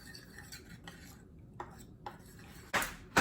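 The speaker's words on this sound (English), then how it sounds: "I'm gonna mix." A spoon scrapes and clinks against a bowl while sambal ulek chili paste is stirred with hot water, giving quiet intermittent taps and scrapes followed by a louder clatter near the end.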